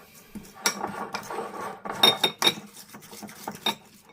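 Noodles being stirred together with sauce for Indomie Mi Goreng fried noodles, with irregular utensil scrapes and clinks against the bowl, close and moderately loud, no talking.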